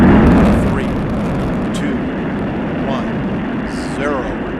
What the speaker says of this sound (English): liftoff of Space Shuttle Atlantis on a mission to build, resupply, and to do research on the International Space Station